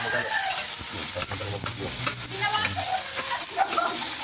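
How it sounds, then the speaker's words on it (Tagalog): Onions sautéing in a hot pan, with continuous close sizzling and frying crackle while a utensil stirs and scrapes through them. "Ayan guys, gisa-gisa lang mga doon."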